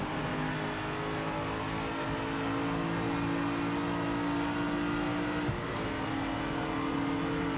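A GT3 race car in Project Motor Racing, its engine droning steadily and pulling hard under acceleration, loud and continuous, with a brief knock midway and no talk.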